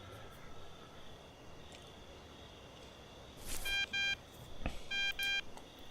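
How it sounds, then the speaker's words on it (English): A phone in the Thief Simulator video game rings with repeated electronic tones in short bursts over a quiet background hum, following a soft clatter. "we seem to have a phone call from a guy named Vinny."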